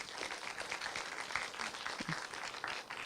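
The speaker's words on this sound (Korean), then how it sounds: "박수를 한번 주시면 좋겠습니다" Audience applause fills a forum hall at a Korean-Japanese youth education event, steady dense clapping from many hands held for about three seconds at moderate distance, with no talk over it.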